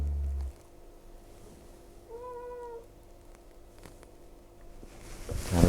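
A little kitten gives a single short, clear meow indoors, quiet and close, amid faint room noise.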